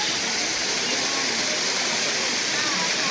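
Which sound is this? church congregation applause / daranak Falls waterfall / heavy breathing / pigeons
daranak Falls waterfall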